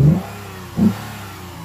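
A Lexus IS F Sport engine fitted with an aftermarket air intake gives two short sharp revs about a second apart, each a close throaty blip falling back to a low idle.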